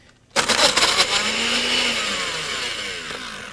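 A food blender grinds frozen coffee ice cubes, starting abruptly with loud clattering bursts of ice against the blades, then settling into a steady high whine that continues to the end.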